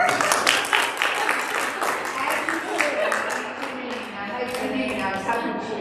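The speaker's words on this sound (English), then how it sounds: "I want a round of applause too" An audience at a women's commission meeting gives a round of applause, steady dense clapping that fades slightly near the end while a voice speaks over it.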